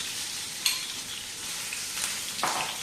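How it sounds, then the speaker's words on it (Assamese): Minced chicken for a Mughlai paratha filling fries in a pan while being stirred, producing a loud continuous sizzle with a couple of sharp scraping strokes. "খুব সুন্দৰকৈ লৰাই লৰাই ভাজিব।"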